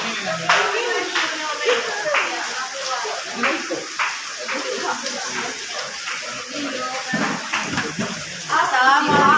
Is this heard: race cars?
no